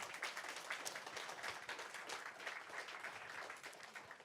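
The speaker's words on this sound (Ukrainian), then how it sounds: "Ще раз давайте ваші оплески." Audience applause at a talk on the ideas of Skovoroda, a broad, steady wash of clapping from a crowd that holds evenly for several seconds with no voices over it.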